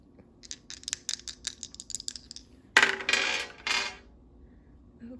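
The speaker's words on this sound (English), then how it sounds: "both of our dice rolled off the table" Two dice tumbling across a tabletop during a tarot reading, giving a run of quick light clicks and rattles, then clattering loudly as they drop off the edge onto a hard surface, close and with no voices.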